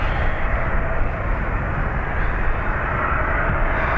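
A Loganair aircraft takes off from Dublin Airport bound for Aberdeen, a steady, moderately loud engine roar with no clear peak.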